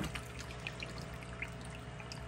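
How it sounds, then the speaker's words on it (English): Dirty water from a fish tank pours steadily into a 5-gallon tote, a continuous close trickling stream with light splashes and no talking. "that will put some of the dirty water from the fish tank into this 5-gallon tote here."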